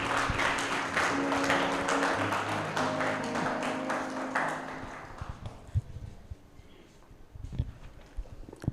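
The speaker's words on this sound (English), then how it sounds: "Let's give him a nice round of applause." Audience applause for Dr. John Mudau, former provincial chairperson, at a BMF Limpopo gathering: dense clapping for about five seconds that fades out, leaving a quieter room with scattered knocks.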